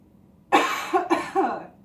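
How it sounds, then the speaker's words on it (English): After a quiet pause, a person gives a few harsh coughs in quick succession during a medical check for congestion, close and fairly loud. "give me a good cough if you could"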